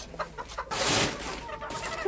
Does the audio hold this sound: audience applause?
no